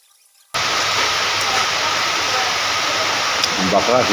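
Heavy rain falls at a roadside food stall, a dense steady hiss that starts suddenly and stays loud, with a brief voice near the end.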